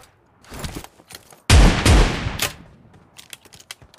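MK14 rifle gunfire in the PUBG Mobile shooter game: two loud, close bursts of rapid shots in the middle, with scattered fainter shots before and after.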